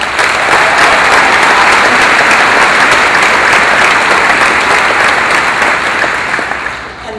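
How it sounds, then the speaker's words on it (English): Sustained, dense applause from a large audience at a 2014 high school graduation ceremony, loud and steady for several seconds before easing slightly at the end, with no talking over it. "Let's give him a round of applause."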